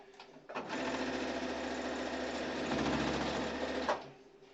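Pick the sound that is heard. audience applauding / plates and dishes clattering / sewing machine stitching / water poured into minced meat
sewing machine stitching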